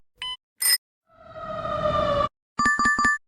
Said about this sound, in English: Sound is fire truck.